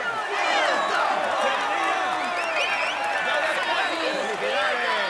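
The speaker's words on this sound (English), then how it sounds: "Come on, let's applaud him once more." A large crowd in the Tour de France 2021 video game on PS4 claps and cheers continuously, a dense roar of applause with whistles and shouts rising over it throughout.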